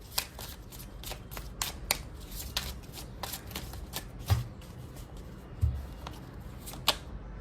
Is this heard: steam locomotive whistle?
no